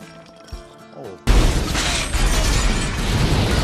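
Two grenades go off in an action film, a sudden loud blast cutting in after quieter scored music and leaving a sustained roaring, crackling rumble of debris.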